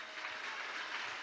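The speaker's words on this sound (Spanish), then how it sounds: "Denle un aplauso a lo de la pancarta" A crowd at a political rally in Anzoátegui applauds the people holding a banner, a steady dense wash of clapping filling the whole moment without gaps.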